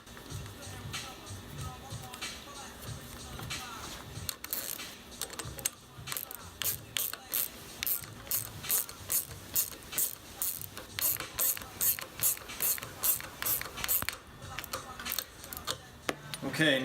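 A 10mm wrench tightens a bolt firmly during reassembly of a Bomber RS, with a run of rapid ratcheting clicks in quick regular strokes, close up, after a stretch of quieter mechanical handling.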